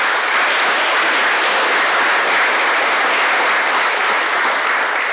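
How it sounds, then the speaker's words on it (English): Loud, dense applause from a large audience honoring Athletic Hall of Fame inductees, a steady unbroken wash of clapping that fills the whole stretch without letup. "Can we give them another round of applause?"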